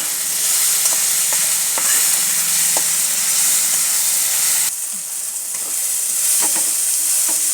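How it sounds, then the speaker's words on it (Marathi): Tomato and green chilies fry in a pan with onion, giving a loud, steady sizzle and hiss that runs throughout, while a utensil scrapes and stirs with occasional soft knocks. "भाजत आलेला आहे टॅमॅटो घालतो मिरची दोन मोडून टाकलेले आहे"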